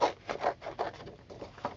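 Scissors fussy-cut a stamped paper picture close by, a series of soft, quick snips and paper rustles in an uneven rhythm.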